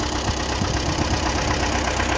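A Belarus MTZ-82 tractor engine idles steadily at close range, a low, even rumble with no voices.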